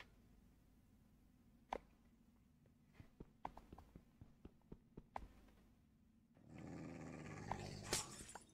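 A pet dog growls in the Minecraft server Cubecraft, several short low rumbles between sharp clicks, then a denser burst of noise near the end.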